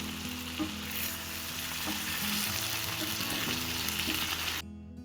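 Palak paneer frying in oil in a pan, a dense steady sizzle with soft stirring knocks, cutting off abruptly near the end.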